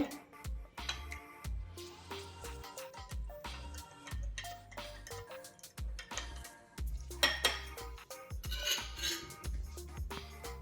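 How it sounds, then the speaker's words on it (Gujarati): A spoon stirs Holi thandai (bhang) drink in a metal vessel, making repeated light clinks and scrapes at an irregular pace over tonal background music. "એને સારી રીતે હલાવી લેવાનું છે, મિક્સ કરી લેવાનું છે."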